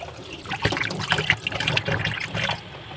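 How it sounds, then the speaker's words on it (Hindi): Tap water running steadily over flowers as they are washed, a close splashing trickle that lasts throughout. "ये देखिए बच्चे ले आए हैं फूल, इन्हें मैं धो कर रख लेती हूँ"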